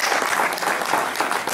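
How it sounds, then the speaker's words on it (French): Audience at a cycling club meeting applauding steadily and densely for a moment, a close, continuous patter of many hands. "Donc Jean-Claude, on peut l'applaudir très très fort"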